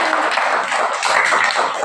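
A classroom of young children claps together for a classmate, producing a dense, continuous patter of many small hands that stays loud and close throughout.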